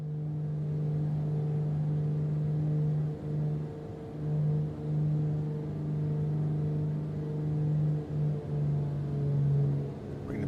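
Twin piston engines of a Beech B60 Duke in Microsoft Flight Simulator 2024, a steady droning hum with a strong low tone that dips and swells slightly in pitch and level, with no talk over it.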